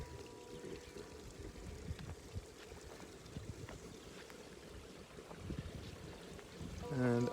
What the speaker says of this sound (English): there's quite a lot of water flowing here today